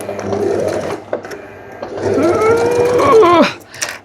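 A sewing machine stitches a lettuce edge hem on a dress. The motor hums and whines close up in two runs with a pause between them, and the pitch rises before it stops near the end. No one talks.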